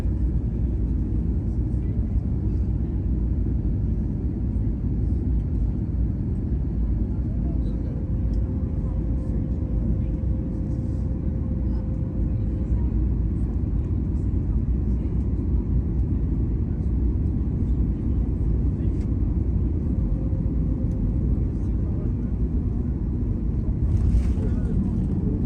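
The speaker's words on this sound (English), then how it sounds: "I'm gonna go quiet for a bit so you guys can actually enjoy the plane landing." Inside the cabin of a passenger airplane during landing, a loud, steady roar of engine and airflow noise fills the whole stretch, with faint clicks and rattles above it and no talk.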